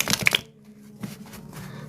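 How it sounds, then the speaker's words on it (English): Tarot cards shuffled in a quick riffle-like burst of papery clicks and flutters, close and fairly loud, then fading into quieter soft rustling handling with no talking. "I'm going to do 2 more shuffles."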